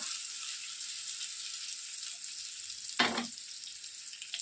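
Stuffed bitter gourd packed with masala fries in a pan of oil, a steady bright sizzle running throughout, with a brief louder hiss and clatter around the three-second mark as the pieces are turned.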